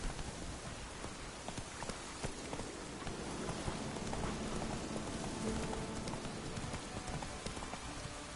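Hooves of Roach, the horse in The Witcher 3: Wild Hunt, clip-clopping in a steady rhythm over a continuous bed of ambient game sound and light rain-like texture.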